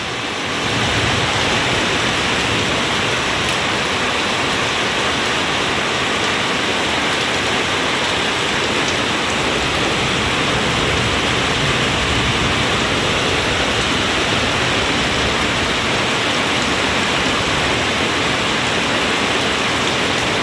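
Heavy monsoon rain pours down over rice fields in rural Thailand, a loud, dense, unbroken roar of water that holds steady for the whole stretch, with no voices.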